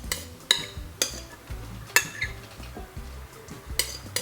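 Utensil scraping a dish clean of leftover healthy weight-loss salad, a series of sharp clinks and scrapes recurring roughly every half second to second, fairly close, with no talking.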